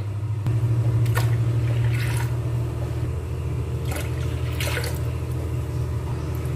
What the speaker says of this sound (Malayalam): ഇനി ഞാൻ കുറേശ്ശെ കൂടെ വെള്ളം ഒഴിച്ച് കൊടുക്കട്ടെ